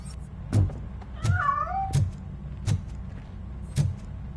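A cat meows twice in rising, wavering calls amid periodic footstep thuds and a low ambient hum, set in the video game RoboCop Rogue City.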